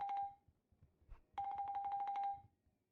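A phone ringing in a GTA roleplay video game: a short electronic ring tone, a pause with a faint murmur, then a longer bright warbling ring that fades out, heard close and clear with no talk over it.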